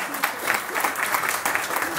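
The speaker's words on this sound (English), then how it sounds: "So a little beatnik applause for Nade." Lecture audience claps together in steady, dense applause for about two seconds, fairly close and filling the room, with no voices over it.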